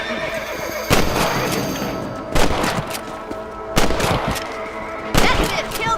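Rifle shots at rabbits in the Red Dead Redemption video game ring out four times at roughly even intervals, each a loud, sharp crack. Horse snorts and hoof sounds carry underneath.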